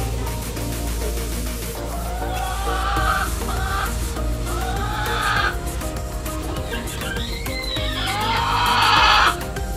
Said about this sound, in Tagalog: Napakaraming manok po dito.